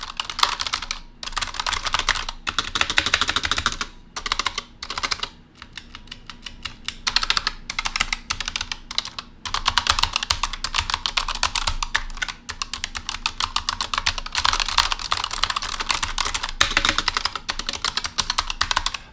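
Rapid, crisp clattering keystrokes on a Bloody B930 TKL optical gaming keyboard with LK brown switches, close and continuous in dense bursts with short pauses, no speech.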